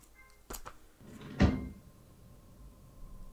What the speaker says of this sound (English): she's opening the drawer in the game, and that's opening and closing